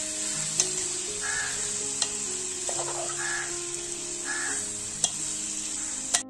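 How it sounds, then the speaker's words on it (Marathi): Drumstick leaves and val dal are stirred in a pan over a steady, close sizzle, with a few scraping spoon strokes and occasional clinks against the metal. "आता त्यात आपण वालाची डाळ टाकलेली आहे। आता सर्व ते मिक्स करून घेणार आहोत।"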